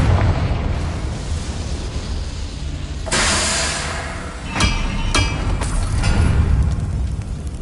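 A Confringo spell in Hogwarts Legacy bursts with a loud, broad blast a few seconds in, followed by sharp crackling pops over a rumbling game background.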